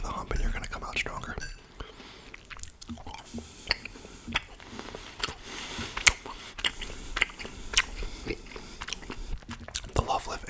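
Close-up ASMR chewing of chewy gummy candy: soft, sticky bites and wet mastication clicks come in irregular bursts, with quiet whispering in between.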